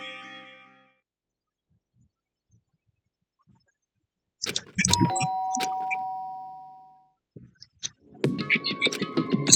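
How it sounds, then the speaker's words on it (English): A doorbell rings in the Danganronpa video game, a clear two-tone ding-dong chime that sustains and decays after a near-silent pause, followed by a second ring and soft game sounds. "did I hear the doorbell? Of course I did"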